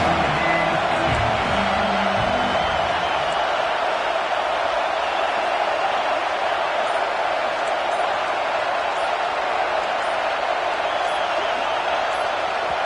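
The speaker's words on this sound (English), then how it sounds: "with this place rocking, the crowd forces a false start" A stadium crowd in the College Football 26 video game roars in a dense, unbroken wall of noise, loud and steady from start to finish.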